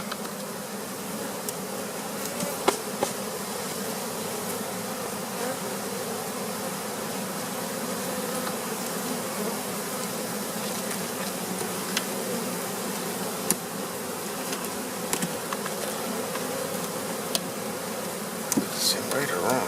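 A thick, unbroken hum of honey bees swarming around a Flow hive as its frames are harvested, steady and close, with scattered faint clicks and taps from handling the hive.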